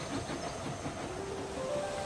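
A circus train in an animated show draws near with a steady rolling rumble and a faint hiss, a few thin whistle-like tones floating over the top.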